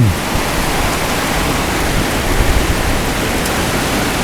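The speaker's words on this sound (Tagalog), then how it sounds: "hindi na makarinigan dahil sa lakas ng buhos ng ulan" Heavy rain pouring down in a dense, steady roar of hissing noise, loud and unbroken throughout.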